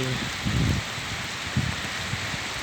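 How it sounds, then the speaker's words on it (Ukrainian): Heavy rain pours onto a Kyiv street as a steady, close hiss, with a few soft low thumps breaking through it. "Дощ. Почав іти. мочить конкретно."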